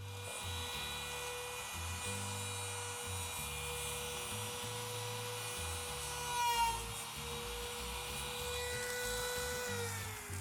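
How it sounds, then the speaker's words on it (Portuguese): Laminate trimmer router running steadily as it cuts wood along a copy template, a loud high-pitched whine with a dense, continuous buzz, briefly rising in pitch mid-cut. "Então agora eu vou ligar aqui a tupia."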